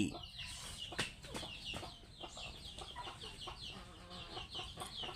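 Several chickens cluck and chatter nearby in a steady, busy flock, with a faint voice now and then in the background.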